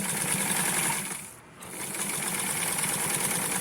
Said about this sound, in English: I'm going to sew back and forth to hold it into place